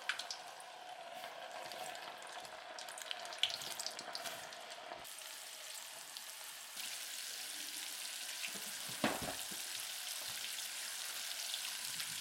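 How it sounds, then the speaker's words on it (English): Spare ribs fry in hot oil with onions, giving a steady broadband sizzle and crackle for the whole stretch, close and even with a few louder pops, and no talking. "you can fry them until they are kind of browning a little bit"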